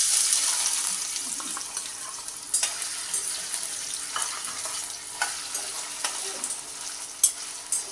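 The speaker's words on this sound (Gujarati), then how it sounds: "એટલા માટે હું સૌથી પહેલાં બટેકાને એડ કરીશ।" Potatoes frying in oil in a pan for batata poha, a bright close sizzle with scattered scrapes and sharp utensil taps, steady and unaccompanied by speech.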